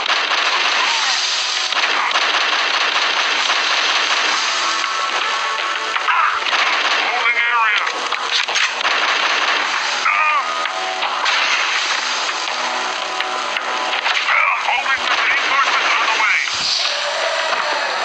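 Rapid gunfire in The Conduit HD shooter game, loud and sustained bursts of shots crackling throughout, with a voice speaking over the battle.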